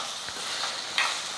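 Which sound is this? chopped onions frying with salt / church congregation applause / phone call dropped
chopped onions frying with salt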